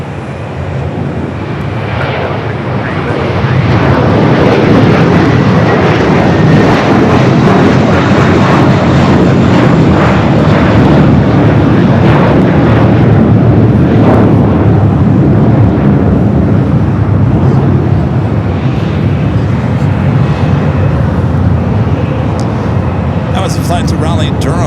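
A United airliner takes off from runway 25 right at LAX, its engines rising into a loud, sustained roar that holds steady through the takeoff roll and climb, with a voice speaking faintly at times.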